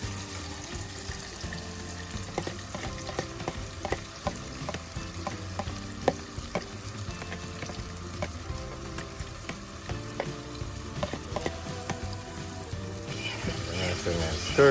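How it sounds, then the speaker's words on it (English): Saltfish tossed into a pot for Jamaican baked beans, frying with a strong continuous sizzle and crackle, close up, with occasional utensil knocks throughout. "I'm going to throw in the saltfish then now"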